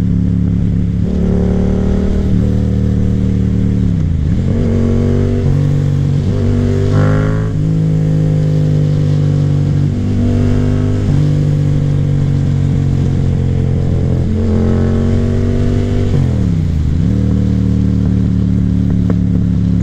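A Yamaha FZ-07 motorcycle accelerates hard under aggressive throttle, its engine note climbing through repeated gear pulls and dropping between shifts, loud and close, with wind noise and no talking.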